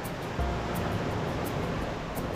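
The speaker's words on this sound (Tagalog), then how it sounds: "Grabe talaga yung alon, oh." Strong sea waves and a fast current at a free fishing spot in Montemaria, Batangas, heard as a steady loud roar of surf mixed with wind buffeting the microphone.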